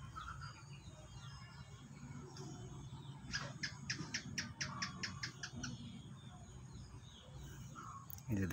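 Birds chirp and call around a decoy bird at a trap, a quick run of sharp repeated tweets standing out over steady outdoor background noise, fairly close but not loud.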